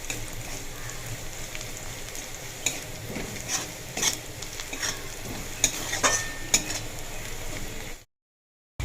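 Onion and garlic sizzle steadily in a hot pan while a utensil stirs and scrapes, with occasional metallic clicks; the sound cuts off abruptly near the end.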